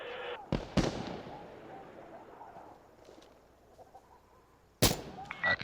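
Incoming rockets detonate in the video game Insurgency Sandstorm: two sharp, loud blasts in quick succession, a long rumbling tail with faint distant battle noise, then another heavy explosion followed by smaller crackling impacts.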